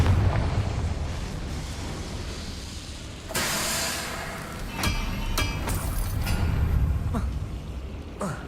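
The Confringo spell in Hogwarts Legacy fires with a loud, bursting explosion, followed by several sharp crackling blasts and pops in quick succession over a rumbling, busy game soundscape.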